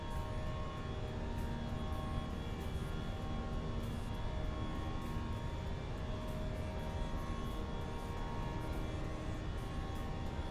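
Steady, unbroken airplane engine drone inside Microsoft Flight Simulator 2024, loud and even throughout with no talking over it.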